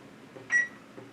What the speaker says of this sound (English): I'll start a timer